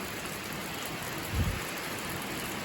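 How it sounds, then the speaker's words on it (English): Heavy rain pouring down steadily during a storm over a hay field, a dense, even hiss with a low rumble of distant thunder in the middle. "it started pouring down rain on us again"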